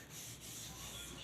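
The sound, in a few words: rubbing wooden chair with fine sandpaper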